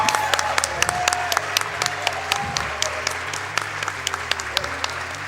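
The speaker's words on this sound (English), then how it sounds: "we should all give him another round of the applause" Audience applause at a speedrunning charity marathon event, many hands clapping steadily with sharp individual claps standing out, while people talk quietly underneath.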